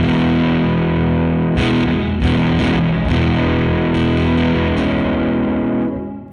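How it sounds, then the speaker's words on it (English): Donner HUSH-I PRO travel guitar strummed through its built-in boost effect set to maximum, giving a thick, distorted, sustained wash of chords with a few sharper picked accents, loud and close before fading at the end. "This is boost all the way up"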